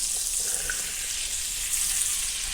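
Zucchini sautéing in a hot skillet like a vegetable stir fry, a loud, steady, close sizzle and hiss that holds evenly from start to finish, with no talking.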